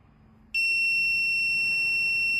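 A K18 anti-spy detector's electronic buzzer suddenly switches on, detecting a GPS locator, and sounds a loud, piercing, high-pitched tone that holds steadily to the end.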